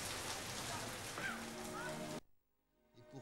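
Steady rain falls as a dense, close hiss for about two seconds, with a faint voice mixed in, then cuts off abruptly to near silence before a little noise returns.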